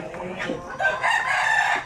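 A native Zampen rooster, a chicken breed from the Zamboanga Peninsula in the Philippines, gives one short crow close by on a farm, heard alone.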